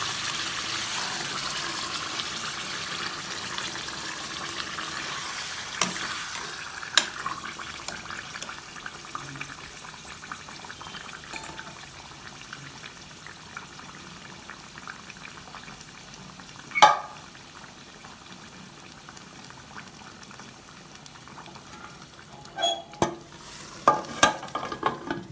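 Mutton korma in a pressure cooker with water added simmers and bubbles softly, with occasional louder clinks and scrapes of stirring against the pot throughout.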